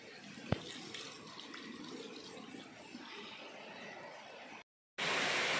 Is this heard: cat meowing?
no